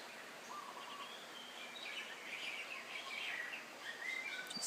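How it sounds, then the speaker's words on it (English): Shama birds and doves call in the jungle, a faint scatter of high chirps and whistled phrases over a soft, steady background hiss, with no talking. "You can hear shama birds,"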